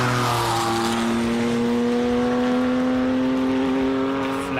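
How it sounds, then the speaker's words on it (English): A Porsche flat-six engine accelerates up a hillclimb at a classic car event, a loud close-up rising howl whose pitch climbs steadily through the run, with no talk. "Flat 6 sound going up the hill."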